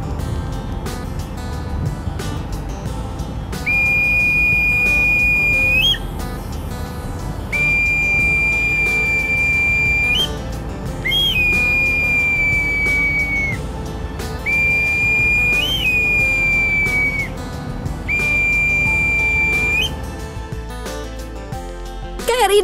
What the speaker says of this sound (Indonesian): suara melengking dari peluit ini akan terdengar